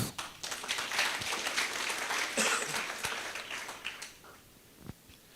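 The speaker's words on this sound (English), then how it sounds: "I thought you would clap." An audience at a university young entrepreneurs business summit applauds, a dense patter of many hands clapping that thins out toward the end, fairly distant in a large room.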